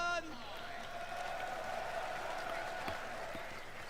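A crowd applauds and cheers at the EVO France 2025 Street Fighter VI top 8, steady clapping that continues throughout while a loud tonal burst sounds at the start.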